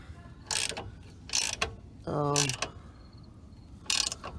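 A ratchet wrench clicks in short bursts while tightening the upper control arm bolts on a 2000 Ford Ranger. Four separate runs of quick pawl clicks are heard close up, one with a rasping whir, and quiet gaps between them.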